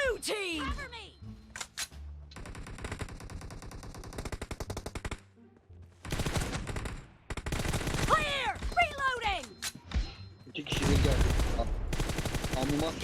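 Gunfire in the mobile battle-royale game PUBG Mobile: repeated bursts of automatic fire and single shots in close succession, with excited voices talking over and between the shooting.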